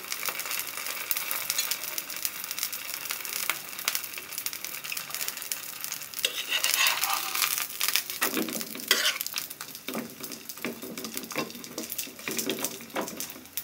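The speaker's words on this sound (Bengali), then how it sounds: "আস্তে আস্তে করে ভেজে নিতে হবে যাতে ভিতরে সবজিগুলো সিদ্ধ হয়ে যায়।" A vegetable paratha frying slowly in a pan gives a steady, fairly soft sizzle that swells briefly in the middle, with a few faint scrapes and no voices.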